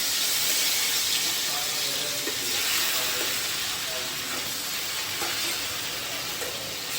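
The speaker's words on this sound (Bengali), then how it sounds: "আমি শোল মাছগুলো দেখো আমি ভেজে নিচ্ছি ইন্ডাকশনে" Snakehead fish fry in oil on an induction cooker, giving a loud, continuous sizzling hiss with faint bubbling crackle throughout, close and steady with no pauses.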